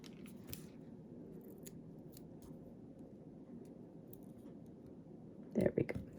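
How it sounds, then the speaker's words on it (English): Scissors snip a paper strip for a handmade sympathy card. The cuts are close and crisp: a few faint clicks early on, then a cluster of louder snips near the end, over quiet room noise. "Well, we'll just cut another strip."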